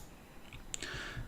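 A single soft mouse click sounds when pressing an approve button in a self-service administration screen, faint and brief against quiet room noise.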